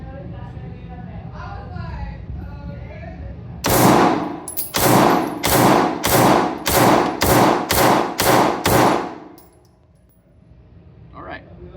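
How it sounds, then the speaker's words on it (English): Eight rapid pistol shots ring out from a Springfield Prodigy Comp firing Blazer 115 grain ammunition, loud and close in a quick, even string, with faint talk before and a quiet tail after. "first thing we're going to be shooting through this Prodigy Comp is going to be the regular Blazer 115 grain"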